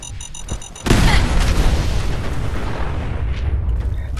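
Truck blowing up in the Fallout 4 video game: a sudden loud boom after a short stretch of quieter game sounds, followed by a long roaring, crackling rumble that fades slowly.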